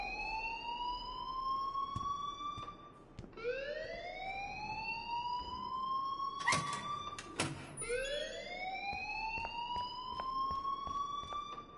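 An alarm in the video game Life Is Strange wails in loud rising siren sweeps, repeating roughly every four seconds, with a couple of heavy knocks midway and no voices.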